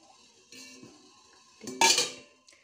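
Metal plate clinks and scrapes against a steamer pot as a layer of rava dhokla is lifted out with tongs, a few light knocks followed by a louder clattering scrape, then quiet.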